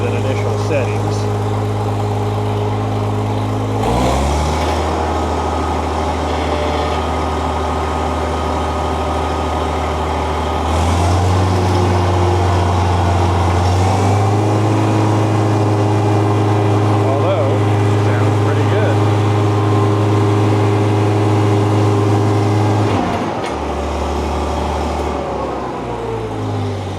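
An International 656 tractor engine, fitted with a new exhaust and still on initial carburetor settings after sitting unused for about five years, runs steadily at close range, its idle stepping between a few different speeds.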